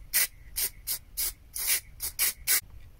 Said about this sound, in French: je prends la bombe, un petit réservoir, et je spray à l'intérieur